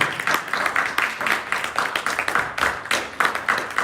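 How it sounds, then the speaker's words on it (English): A crowd at a keynote address claps together in loud, rhythmic bursts, the sharp unison claps repeating steadily and closely spaced over several seconds, with no voices on top. "Y'all be clapping"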